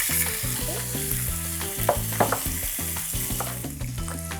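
Steady, loud sizzling of skin-on chicken frying skin side down in hot oil, with a few sharper pops and crackles rising over the continuous hiss.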